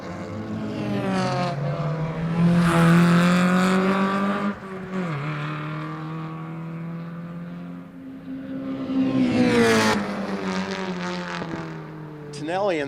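Mazda Miata race cars at Lime Rock Park rev and shift through the gears, engine tones rising and falling in repeated pulls, passing close by with a commentator talking over them.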